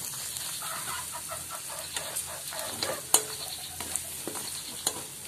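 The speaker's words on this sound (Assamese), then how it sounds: "বামলা দি ভাজি আছোঁ" Bamla fish frying in a pan with taro stolons, a soft continuous sizzle broken by repeated scraping stirs and crisp pops, one louder clack near the middle, no talking.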